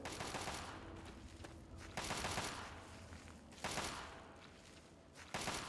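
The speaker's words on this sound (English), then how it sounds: "Someone's shooting." Repeated bursts of automatic gunfire from a firing range in Fallout 3 come in loud clusters with short pauses between them and no talking over them.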